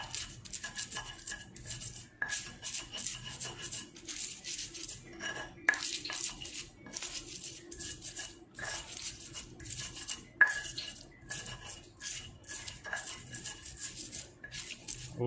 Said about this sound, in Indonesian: Sekarang ini kita ulek dulu.